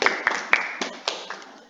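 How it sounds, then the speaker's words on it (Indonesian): Scattered, uneven handclaps in a school classroom, a handful of separate claps from a small group rather than full applause, sounding close and fairly light. "tepuk tangan untuk kita semua"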